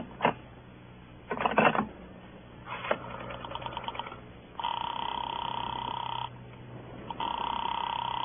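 Telephone call in an old-time radio crime drama: a few clicks and dialing sounds, then a steady ringing tone that repeats after a short pause, close and alone with no voices.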